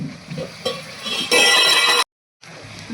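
Chopped green garlic gets stirred into a pigeon pea curry, brief close sizzling and spoon scrapes that swell loudly, then a sudden drop to silence before the sizzle resumes.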